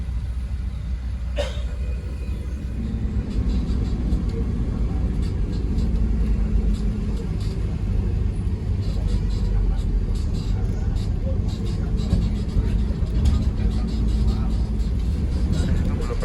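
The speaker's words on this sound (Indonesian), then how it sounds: "selepas hujan ya lumayan macet segini" Steady, dense road-traffic rumble of slow-moving cars and buses in Serang after rain, with a voice talking over the engine noise.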